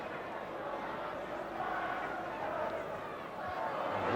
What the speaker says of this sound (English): Crowd encouraging him to drive in and go on his own.